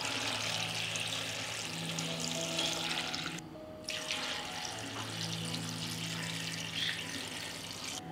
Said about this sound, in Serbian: U svaku šerpu dodajem po litar vode.